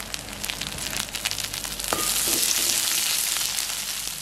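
Onions dropped into hot oil with mustard seeds, curry leaves and chillies, a crackling sizzle that jumps louder at the drop and then settles into a steady close fry, no talking.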